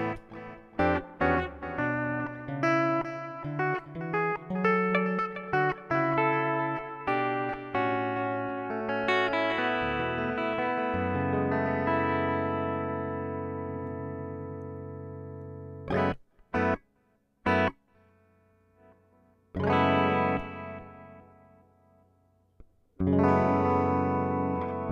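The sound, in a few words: guitar through reverb pedal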